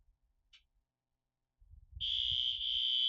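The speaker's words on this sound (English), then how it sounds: "The fire alarm is on." A fire alarm in a Kenshi game session starts abruptly and sounds a loud, sustained high electronic tone, following a faint short beep and some low rumbling.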